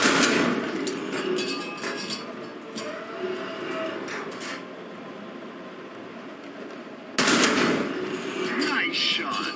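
Tank cannon fire in the War Thunder video game: a booming shot with a sharp onset and a decaying rumble, then a second loud blast near the end, with mechanical game noise between them.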